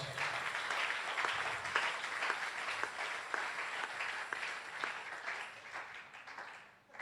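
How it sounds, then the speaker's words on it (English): Church congregation clapping hands during a lively service, a steady rapid patter of many hands in a reverberant room that fades out near the end. "Clap these special hands."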